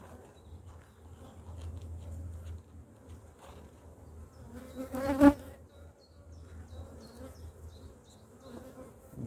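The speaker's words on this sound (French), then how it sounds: "J'ai une abeille qui est rentrée dans mon voile." A honeybee caught inside a beekeeper's veil buzzes steadily and close to the ear for several seconds, its drone swelling to a sharp peak midway before settling back to a low hum.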